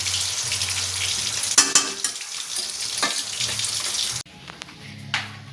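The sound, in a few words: shrimp curry frying and being stirred in a pan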